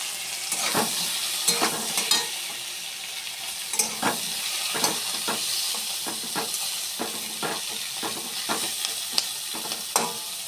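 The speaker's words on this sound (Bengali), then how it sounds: "এটা এখন দিয়ে দেবো, একটু ভেজে নেব।" Slit green chillies fry in a pan with a steady loud sizzle, punctuated by frequent scraping stirs of a spatula against the metal, close up and without talk.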